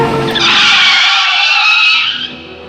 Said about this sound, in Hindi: वो हटा और गाड़ी बगल से निकली और आगे जाकर रुकी।